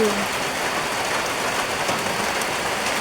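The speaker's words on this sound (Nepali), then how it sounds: "पानी पनि अब त्यस्तै ठुलो परिरहेछ" Heavy rain falling on a sunny day, a dense, even roar of drops on surfaces that fills the scene steadily and loudly from start to finish.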